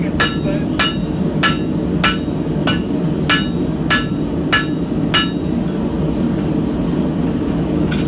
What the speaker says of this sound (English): I'm just going to hammer it flatter